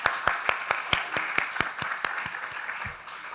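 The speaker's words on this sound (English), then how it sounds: "let's give them a round of applause" Applause at an international student recognition ceremony dinner, heard as a crisp, rhythmic run of evenly spaced claps that gradually thin out and fade.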